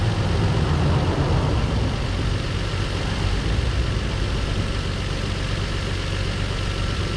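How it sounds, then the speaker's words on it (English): A vehicle engine idles high, around 900 rpm, after a valve filter was left unhooked, giving a loud, steady low rumble throughout with no talking. "No way that thing should be idling at 9."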